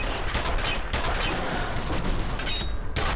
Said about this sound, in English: they fire wildly, their fingers squeezing the trigger as they die